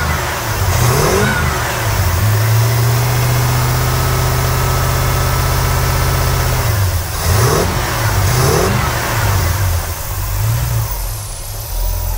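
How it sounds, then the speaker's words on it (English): Engine of a 1965 Ford Galaxie hardtop running close by, holding a steady idle and then revving in several rising and falling bursts. "the motor runs so good"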